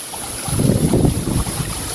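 Wind gusting outdoors beside flowing water at a riverside fishing spot, a steady broadband rush of wind noise on the microphone that swells mid-clip and carries on without any voices.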